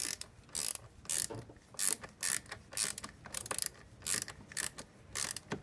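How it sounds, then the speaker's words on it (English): Ratchet wrench with a 12 mm socket tightening car battery terminals, a series of close, crisp ratcheting bursts in quick repeated strokes with short pauses between, no voices. "I'm just gonna come in and tighten up these terminals right here."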